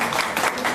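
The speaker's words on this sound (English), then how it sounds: "Let's give her a round of applause" Brief burst of audience applause for a volunteer called up at a senior center diabetic foot exam demonstration, dense steady clapping filling the short moment.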